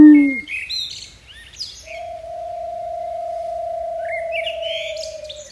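A single owl gives a long, steady hooting call that holds one pitch for several seconds, with brief higher chirps from other birds before and after it.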